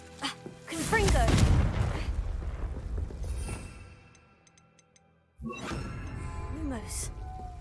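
Fire-blast Confringo spell explosions in the Hogwarts Legacy video game: loud booming, crackling bursts at the start and again near the end, separated by a quiet gap, with a voice calling out over them.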